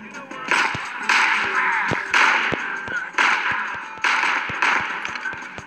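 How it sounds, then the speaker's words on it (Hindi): Repeated bursts of gunfire in the video game Six Guns, sharp cracks arriving in several rapid volleys with brief pauses between them, loud and close. "और गोलियां चली."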